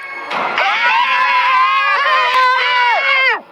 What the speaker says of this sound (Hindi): उस औरत को देखते ही उन तीनों की चीख निकल गई